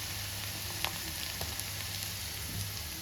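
Onion, curry leaves and ginger garlic paste frying in a pan for a brinjal dish, a steady soft sizzle throughout with a few faint crackles and pops, close and alone with no talking.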